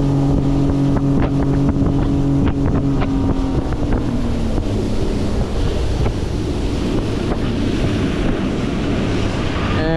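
A Highfield Sport 390 RIB inflatable motorboat runs at speed on calm, flat water, its engine a steady loud drone with the engine note dropping as it slows, mixed with rushing water and wind buffeting the microphone throughout.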